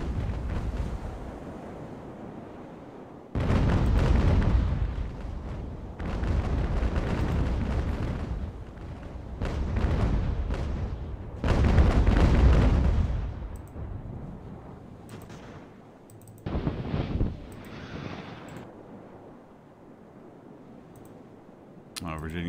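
Sailing-warship cannon fire in Ultimate Admiral Age of Sail, with heavy booming broadside bursts in several long rolling volleys and sharp clicks in between, loud and near, with someone talking over parts.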